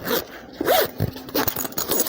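Zipper on a bag bought from Temu is pulled open and shut in several quick rasping strokes, close and clear with no talk.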